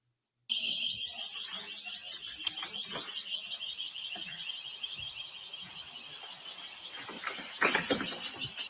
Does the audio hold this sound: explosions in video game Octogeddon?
no